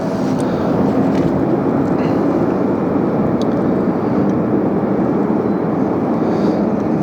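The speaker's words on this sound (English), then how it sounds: "Here's Air France taking the runway to backtrack or back taxi" An Air France airliner back-taxis on the runway at LAX, a steady, broad jet engine rumble and whine holding at moderate distance throughout, with faint intermittent sounds over it.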